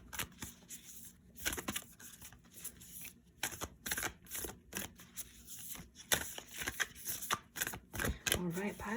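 A deck of chakra oracle cards shuffled for a tarot-style pick-a-card reading, with a continuous run of crisp riffling and flicking bursts, close up, and a voice talking faintly at times.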